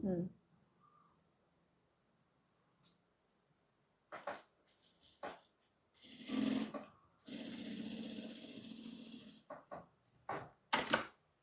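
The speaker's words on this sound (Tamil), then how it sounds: "டபுள் டைம் வந்து நீங்கள் ஸ்டிச் பண்ணிக்கிங்க" A sewing machine stitches a blouse in bursts, with a steady run of machine noise in the middle and shorter stops and starts around it, fairly close and moderately loud.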